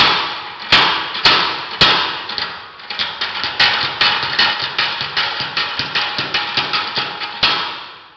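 A home-built power hammer pounds metal in a steady run of loud, sharp blows, a few slow separate strikes at first and then a quicker regular rhythm, with the motor humming continuously underneath.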